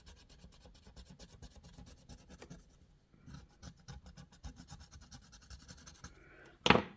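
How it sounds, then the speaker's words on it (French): A 20-euro scratch card scraped by hand in a steady, close rasping rub that pauses briefly midway, then resumes before a sharper louder scrape at the end. "on va gratter celui du milieu"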